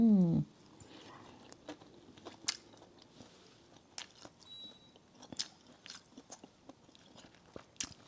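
Someone eating fried round glutinous rice cake with fried onion, with soft bites and chewing sounds close up between faint clicks, mostly quiet apart from a brief loud sound at the start.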